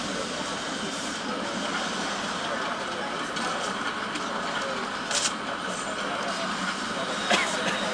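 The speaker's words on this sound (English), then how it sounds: "So I've got the train is headed towards the bridge" Steady rumble of a moving train in the video game The Saboteur, a continuous broadband rolling roar with faint clanks, running evenly throughout with a brief sharper burst near the end.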